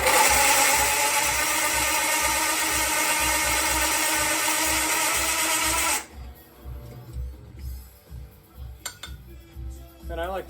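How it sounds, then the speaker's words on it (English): Loud, continuous whine of a drill boring for several seconds, then stopping abruptly, followed by quieter clattering and handling sounds nearby. "Sweet sounds of drill bits."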